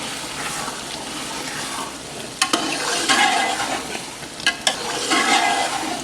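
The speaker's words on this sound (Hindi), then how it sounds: "आराम नाल हलाना है इत्थे।" Fried okra is stirred through an onion-tomato curry in a pan, giving a continuous soft sizzle with scraping stirs and a couple of sharp clinks of the spoon against the vessel.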